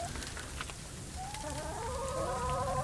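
Backyard chickens cluck and murmur at close range outdoors on an icy winter day, their calls rising into a drawn-out crow-like warble. Steady background noise runs beneath them.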